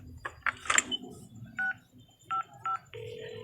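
A rapid run of short electronic dialing tones, several in quick succession, followed by a steady phone tone, heard close and clear.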